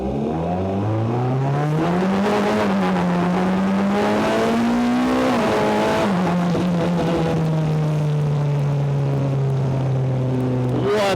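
A BAC Mono sports car is driven on a wet road in the rain. Its engine revs up loudly, holds, rises again and then settles into a long, steady cruise, with a final rev at the end.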